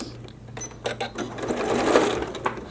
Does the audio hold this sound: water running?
no